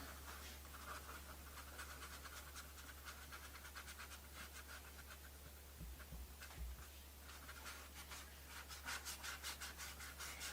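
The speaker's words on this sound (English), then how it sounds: "I can rub even harder and stronger" Dry rubbing with a nearly paint-free brush during tole and decorative painting gives a soft, steady scratchy scrubbing that repeats in quick strokes, quiet and close, over a low constant hum.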